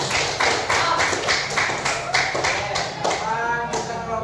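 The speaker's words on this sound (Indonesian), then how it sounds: "Kelompok 1 tepuk tangan" Students in a classroom group clap their hands together in a steady rhythmic pattern of about ten beats, loud and close. The claps ring out alone, with a faint tonal sound near the end.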